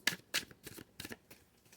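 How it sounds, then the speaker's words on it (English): Tarot cards being shuffled by hand during a reading, a series of quick, soft riffling bursts in an uneven rhythm, close and faint with no talking. "Let me give them one more good shuffle."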